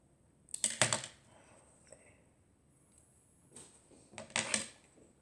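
A knife cutting up strawberries on a board makes two clusters of quick, close chopping taps, one early and one late, with quiet gaps between them.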